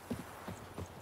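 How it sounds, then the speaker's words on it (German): Horse hooves clip-clop in the video game The Witcher 3, a few quick, light, close steps in a short rhythmic burst. "Und unser Pferd holen."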